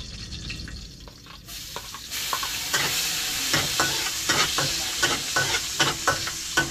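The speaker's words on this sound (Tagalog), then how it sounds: "Yan mga kalaut at naprito na po natin ng isda" Fish frying in a pan for a sarsyado dish, with a steady loud sizzle and spatter throughout, louder after the first two seconds, and repeated sharp scrapes and clinks of stirring.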